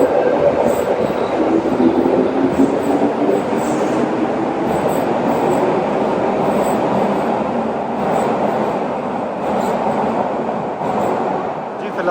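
A Tokyo metro train pulls away from the platform, its loud rolling rumble and rail noise holding steady for several seconds, close by, with faint wheel squeal and no voices.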